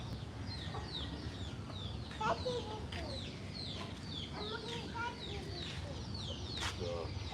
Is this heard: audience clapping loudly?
no